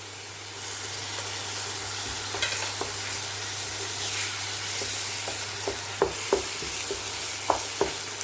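Tomato paste and ginger-cumin paste being stirred in a hot pan for doi potol, a steady sizzle and frying hiss with occasional scraping clinks of a spatula, close and continuous.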